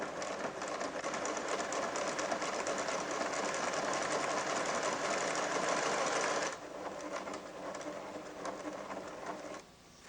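A Pfaff Creative 1471 sewing machine, a 1987 model, stitches a bartack at a fast, dense, steady rhythm that continues loudly, then briefly drops to a softer, slower run near the end.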